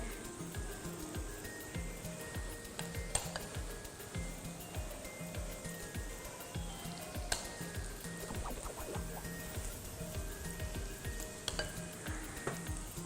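Vadas frying in hot oil for an Iftar recipe, a steady soft sizzle running throughout, with occasional clinks of a utensil against the pan and gentle stirring sounds.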